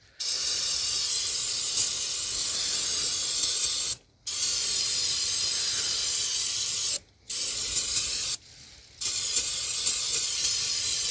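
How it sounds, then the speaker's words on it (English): Brake cleaner sprayed onto the clutch bleeder of a 2019 Honda Civic 2.0: three long, loud, close hissing bursts separated by short pauses, with a weaker puff near the end and no talking. "wash it down a bit with some brake cleaner"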